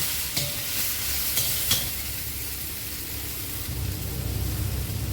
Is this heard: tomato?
yes